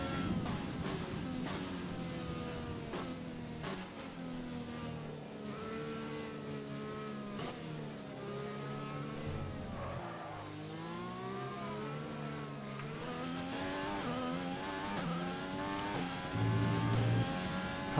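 F1 car engine in the video game F1 2020 at the China Grand Prix, a continuous high revving whine rising and falling through gear changes, loud and close with no talk over it.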